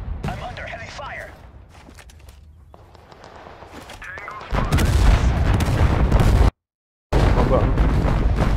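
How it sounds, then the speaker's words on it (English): Heavy gunfire and explosions in the Total Conflict: Resistance video game, quiet at first, then a loud sustained barrage of shots and booms that drops out briefly before resuming, with voices talking throughout. "I'm under heavy fire"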